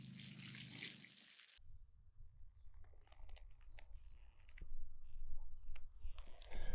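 Water poured to thoroughly soak newly planted kale in garden soil, a soft, fairly faint trickle and patter with scattered small splashes and clicks, following a brief loud burst at the start.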